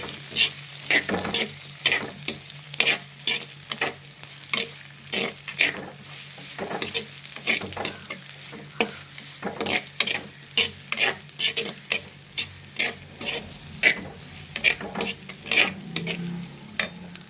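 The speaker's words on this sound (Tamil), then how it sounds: "இவங்களை நல்லா வதக்கிக்கலாம்." Garlic and other ingredients for a poondu kulambu being sautéed in a pan, with a steady sizzle under repeated scraping stirs of a spoon, close and moderately loud, no talking.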